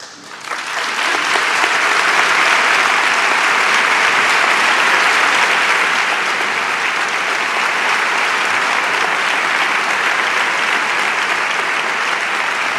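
An indoor audience applauds during the Seville Holy Week proclamation speech, with loud, dense clapping that swells quickly and holds steady for over ten seconds.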